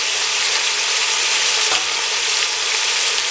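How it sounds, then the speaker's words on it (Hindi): Finely chopped green chillies fry in a pan with a dense, constant crackling sizzle, close and loud, with no voices over it. "अब इसको हम 2 से 3 मिनट के लिए फ्राई करेंगे"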